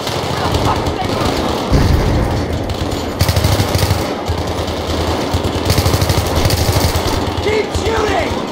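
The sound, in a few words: gunfire in the video game Battlefield 3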